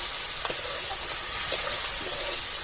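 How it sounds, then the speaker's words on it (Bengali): Prawns sizzling in spiced oil in a pan, a steady close hiss of frying with a few sharper spits and crackles over about three seconds, no talking. "এবার চিংড়ি মাছটা দিয়ে দিচ্ছি। চিংড়ি মাছটা দিয়ে একটুখানি কষিয়ে নেবো।"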